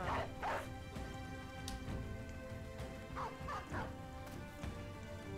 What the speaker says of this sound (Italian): Libera il cane.